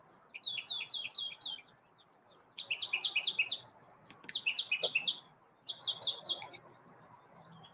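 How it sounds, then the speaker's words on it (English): Sparrows chirping in a yard, bursts of rapid high twittering in repeated phrases with short pauses between, fairly close and clear over a quiet background. "We got a bunch of sparrows in the yard too."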